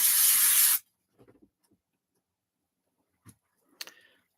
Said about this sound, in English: So I'm going to spray the back of this one as well.